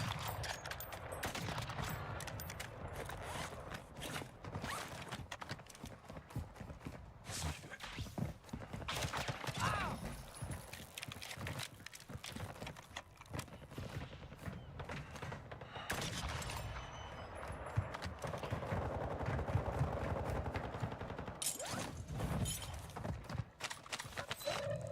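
Gunfire in Call of Duty: Warzone: rapid bursts of shots crackle and pop through a long stretch, fairly quiet and distant, mixed with busy clattering game noise.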